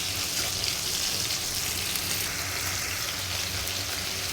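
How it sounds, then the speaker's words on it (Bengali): Water spinach (kolmi shaak) is stirred and fried in a pan for a Bengali stir-fry, producing a steady, close, hissing sizzle with faint stirring scrapes and no talk. "এবার এভাবে আমি নেড়ে নেড়ে কিছুক্ষণ ভেজে নেব।"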